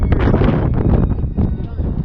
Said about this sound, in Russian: О, ребята, жесткий ветер.